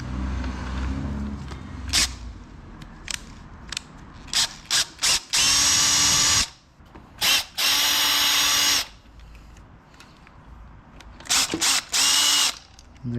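A power driver with a T40 Torx bit backs out threadlocked bolts on a Trek Rail e-bike, loud ratcheting bursts and whining spins starting and stopping in short clusters, close and with no talk.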